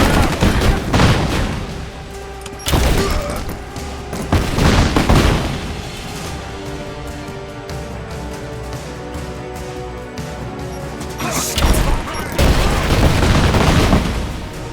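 Gunfire in the Rise of the Tomb Raider video game: loud bursts of rapid shots and heavy booms in several waves, near and dense, with short calmer stretches between the volleys.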